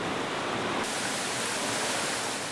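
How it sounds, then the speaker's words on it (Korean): Water rushes continuously in a steady, dense roar, like a stream or small falls heard up close, with no other sounds, swollen by rainy-season rains near the Dead Sea in Israel. "멀리서부터 들려오던 물소리"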